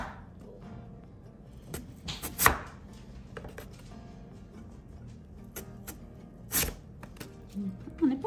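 Potatoes sliced by hand into waffle fries, sharp crisp cutting strokes at irregular intervals against a board, close and clear over quiet background with faint voice.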